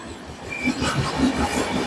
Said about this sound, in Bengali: রাজধানী এক্সপ্রেস শিয়ালদা নিউ দিল্লি রাজধানী এক্সপ্রেস ডানকুনি জাংশন ক্রস করছে